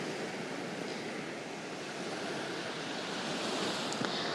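Ocean waves on Tel Aviv beach, a steady broad wash of surf rolling in continuously at moderate loudness, with some wind noise on the microphone and no voices.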